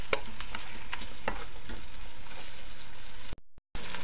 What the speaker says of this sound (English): Okay, so you see it fry up nicely.